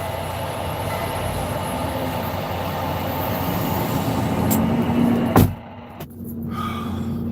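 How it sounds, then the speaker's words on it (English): A noisy truck backing up nearby, a steady heavy engine drone and mechanical rumble building for several seconds, then a sharp clunk and a drop to quieter idling. "That truck is just noisy, and he doesn't know how to back"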